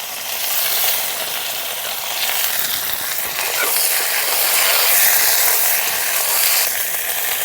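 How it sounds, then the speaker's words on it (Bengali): Broad beans frying in hot oil left over from frying potatoes, a steady dense sizzle with faint stirring scrapes, close and continuous throughout. "আলু ভাজা তেলের মধ্যে সিমগুলো দিয়ে ভেজে নেব।"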